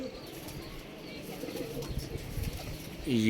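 Pigeons at a rooftop loft, with soft cooing and brief wing flutters against quiet outdoor background noise, ending in a louder bird call.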